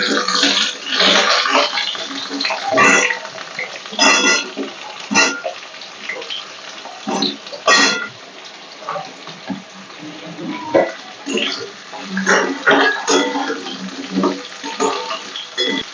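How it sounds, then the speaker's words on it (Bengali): Potatoes frying in hot oil in a pan for a Bengali lau shak stalk posto dish, a steady loud hiss and sputter with bursts of crackling that swell and ease throughout. "হ্যাঁ, তেল গরম হয়ে গেছে, আমি আলুটা দিয়ে দেবো।"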